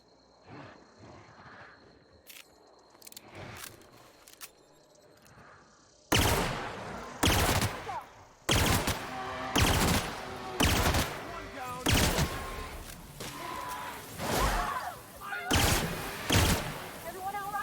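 Gunfire in The Outer Worlds, a string of loud, rapid shots in bursts following quieter scattered pops, with game ambience in between.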